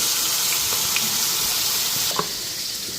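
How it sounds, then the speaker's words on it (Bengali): Chicken wings fry in a pan, a dense steady hiss of sizzling oil with a few faint pops and stirring clicks, close up and with no talking. "এগুলো এখন পুরো লাল করে ভাজা করে নেব"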